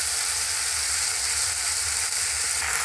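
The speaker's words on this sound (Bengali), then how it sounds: "এই মশলাটা দেওয়ার পরও একটু ভালো করে নেড়ে চেড়ে কষিয়ে নেব।" Onion with green chili and ginger paste sizzles steadily in a hot pan, a dense continuous frying hiss with faint scraping, close and unbroken with no talk.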